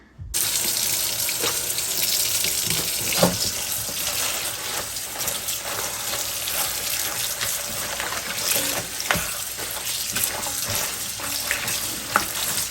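Tap water runs steadily into a sink while salad greens are rinsed, a close, continuous splashing gush with occasional sharper knocks as leaves and the bowl are moved about, and no talking.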